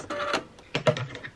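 A home sewing machine backstitches over a string, running forward and back to secure it, in two short mechanical whirring bursts with a brief pause between them.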